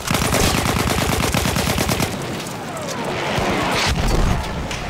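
An enemy machine gun in Battlefield 1 rattles off a dense, loud stream of shots, then fades into rumbling battle noise with heavier booms.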